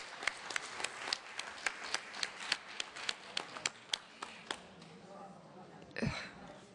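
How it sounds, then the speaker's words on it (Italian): Sparse, distinct hand claps at a ceremonial signing event in Rome, a slow run of individual claps that fades out, followed by a brief thump. "facciamo un applauso"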